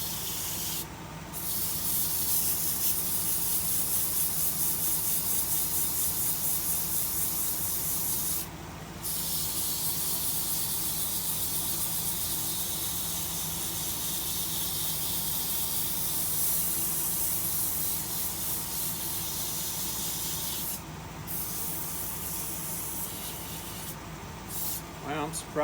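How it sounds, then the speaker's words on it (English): A ceramic vase is sanded with a continuous hissing rasp, broken by a few short pauses, close and fairly quiet. "Sand it again."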